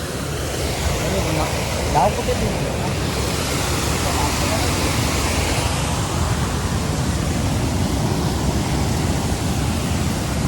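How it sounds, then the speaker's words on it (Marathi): River water rushing after rains, a dense continuous roar filling the whole clip, steady and broadband with a breezy, wind-touched texture, close and loud. "पाणी आलंय नदीला"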